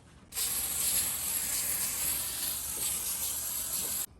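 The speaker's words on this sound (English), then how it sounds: "all-in-one disinfectant spray." An all-in-one disinfectant spray is sprayed in one long continuous hissing burst, close and steady, lasting several seconds before cutting off sharply, with no talking.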